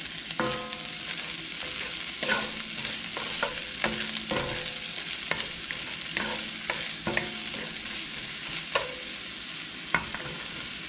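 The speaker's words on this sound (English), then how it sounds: "Now I'm going to add my onions. Cook them just a minute." Onions sizzle steadily in hot oil in a skillet, a bright continuous frying hiss broken by repeated scraping and clinking strokes of a utensil stirring them, close and alone with no talk.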